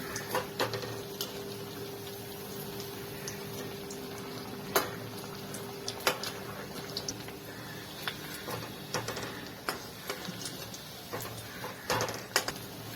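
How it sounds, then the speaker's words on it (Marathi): A wheat flour and potato snack frying in a pan with a steady bubbling sizzle, broken by scattered clicks and light scrapes of a spatula over about thirteen seconds. "दोन मिनिटं याला चांगलं फ्राय करून घ्यायचं"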